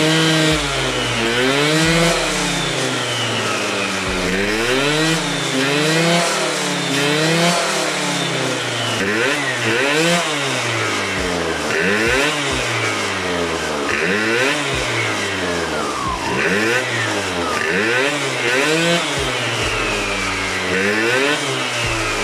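A Booster 70DR scooter engine fitted with a red Malossi clutch spring revs up and down again and again, rising and falling in a buzzy two-stroke whine that stays loud and close throughout.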